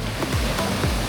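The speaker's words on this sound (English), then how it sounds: "Waves are bigger here." Rough ocean waves breaking on an Algarve beach, a continuous broad wash of surf with a couple of soft surges, no talk.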